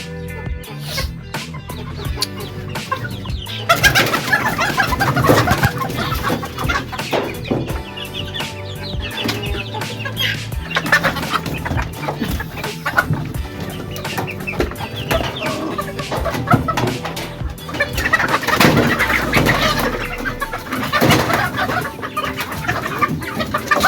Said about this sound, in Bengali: একসাথে পালতে পারেন কয়েক ধরনের মুরগি